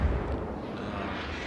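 Cleveland light cruiser in World of Warships amid naval gunfire, a heavy continuous roar of big-gun blasts and rumbling battle noise, loud and dense without pauses.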